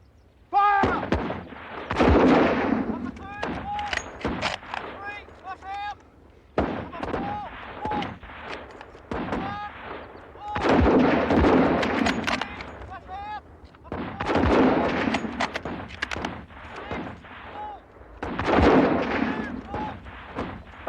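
Rifle volleys from soldiers shooting at targets on a WW1-era training range, sharp cracks coming in repeated bursts with short gaps between them, heard over spoken voices.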